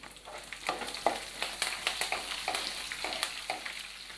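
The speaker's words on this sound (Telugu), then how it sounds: "ఇవి చక్కగా కలర్ వచ్చే వరకు ఫ్రై చేసుకుందాం" Peanuts, seasoning seeds and dried red chillies fry in hot oil with a steady sizzle, broken by repeated sharp crackles and pops as the seeds burst, close and moderately loud, with no talking.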